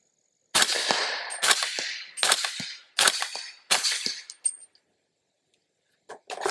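Five sharp, fairly quiet gunshot pops from a suppressed 300 Blackout Honey Badger rifle fire in quick succession, each with a short metallic ring, then a couple of faint clicks after a pause.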